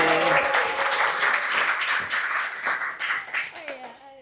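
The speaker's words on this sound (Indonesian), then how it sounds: "Boleh tepuk tangan" Applause at the close of a school podcast session at a senior high school, a short burst of clapping mixed with speech, fading out toward the end.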